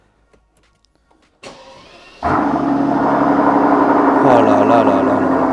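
A V12 biturbo car engine cranks and catches with a sharp burst after a brief starter whir, then settles into a loud, deep, steady idle that swells as it revs, with a short exclamation heard early on.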